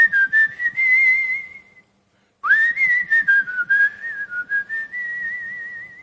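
A person whistles a melody in two sustained phrases split by a short silence, clear and close with no talking over it.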